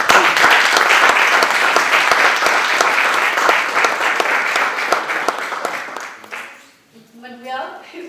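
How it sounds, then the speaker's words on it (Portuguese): Sustained applause from a crowd, dense clapping for about six seconds before fading out, followed by a brief voice. "para eles peço uma salva de palmas"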